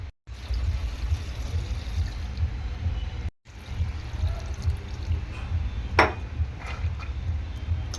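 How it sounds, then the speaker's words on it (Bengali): Water pours steadily into a pot of spicy chickpea and matar kabuli ghugni, a continuous close splashing stream that breaks off briefly partway through and then resumes. "এবার জল দিয়ে দেবো।"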